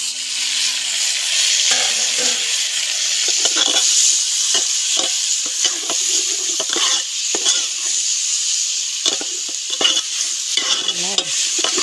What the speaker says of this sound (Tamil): தக்காளி, கல் உப்பு ரெண்டுத்தையும் நல்லா ஒன்றா கொட்டிக்கலாம்